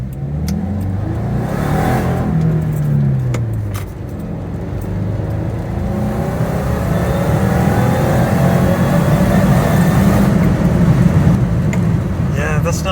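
A supercharged Subaru FB25 engine in a car accelerates with a hesitation, giving a steady mid-pitched engine drone with rising revving tones that stays loud and close for the whole stretch, alongside some voice.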